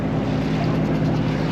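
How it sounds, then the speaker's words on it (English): A sailboat motoring under engine power in near-calm conditions, heard as a steady, loud low drone mixed with a wash of wind noise. "Also, we are still motoring. We have been motoring since about 6 a.m."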